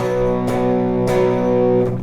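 An electric guitar through the distortion effect of a Zoom G1X FOUR pedal set to mid gain rings out in sustained crunchy chords, with a few restruck strums ringing over one another, loud and alone.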